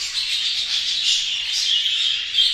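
Several caged birds, one of them a yellow-faced bird, chirp and tweet continuously in a high, bright twittering chorus with steady, fairly loud calls and no talking.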